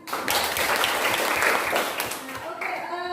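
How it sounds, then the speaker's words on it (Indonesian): A classroom audience of students gives dense, steady applause that fills most of the moment at close range, then thins out as a voice begins talking. "silakan berikan tepuk tangan"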